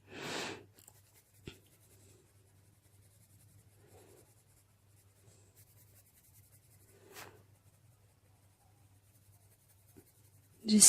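Polychromos colored pencil rubbing across paper while shading a face, a faint continuous scratchy scribble at close range with a low steady hum beneath and a few soft bumps.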